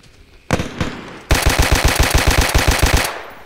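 Rapid automatic machine gun fire during a military firefight, a short opening burst followed by a long sustained volley of loud, closely spaced shots.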